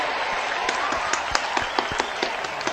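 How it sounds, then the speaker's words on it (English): Game show studio audience giving a round of applause, a short burst of scattered clapping with distinct individual claps standing out, fairly near. "So let's give a round of applause."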